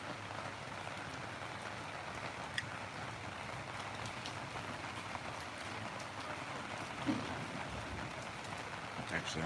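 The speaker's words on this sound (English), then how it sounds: "I dare say this rain is here to stay for a fair few hours, sadly" Steady rain falls outdoors in Laos, a dense even hiss of drops on surfaces with occasional louder splashes, continuous and moderately distant, with faint talk in the background.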